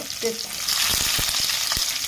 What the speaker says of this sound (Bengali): সেদ্ধ আলুগুলো একটু ভেজে নেওয়া হবে